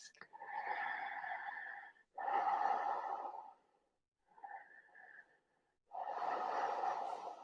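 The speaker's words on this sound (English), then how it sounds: "Deep breaths." Slow, deep breaths during a yoga session on a yoga wheel, heard close and alone, with a long inhale and exhale, a short pause, a softer breath, then another long one.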